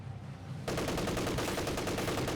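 Rapid machine-gun and rifle fire in the Company of Heroes 2 strategy game, starting abruptly after a quiet moment and continuing as a dense, loud burst of rattling shots.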